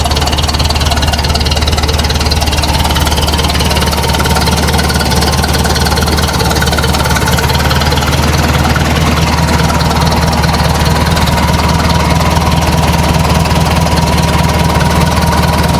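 Engine converted from 6-volt positive ground to 12-volt negative ground idles steadily right after a cold start, a loud, close, continuous low rumble with even pulsing throughout.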